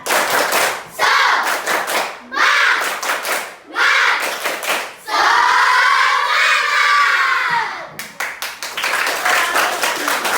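Fourth-grade schoolchildren in an Indonesian primary classroom perform the tepuk semangat clapping chant, loud bursts of rhythmic group clapping and shouted chanting in several phrases, with brief pauses and one long sustained sung call near the middle.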